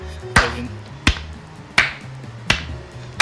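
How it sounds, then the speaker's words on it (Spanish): Four slow, evenly spaced single claps sound out one by one, sharp and fairly near, as a sarcastic applause at a Latin American esports tournament top eight match. "se oye como aplauso sarcástico"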